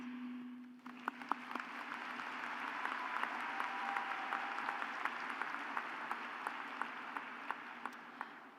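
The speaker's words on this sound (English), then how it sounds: "Please join me in a final round of applause for guests, faculty, administration, and staff." Faint, distant applause from the audience at a university School of Nursing undergraduate commencement ceremony, a steady wash of many hands with a few sharper individual claps standing out, lasting several seconds.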